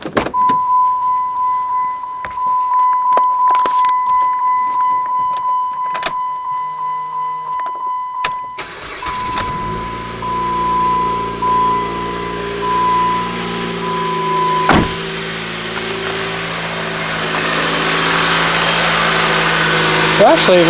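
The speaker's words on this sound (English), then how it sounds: "So let's fire this thing up and see what it sounds like now." A 2008 Jeep Compass engine is started after an overrunning alternator decoupler pulley replacement, cranking and catching about halfway through, then settling into a steady, fairly quiet idle, with a few clicks and handling noises beforehand.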